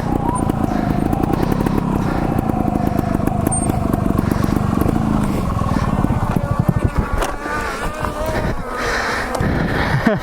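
A trials motorcycle with a high-compression engine is ridden nearby, its engine barking and revving in uneven bursts before cutting out and falling quiet near the end, with a voice heard faintly.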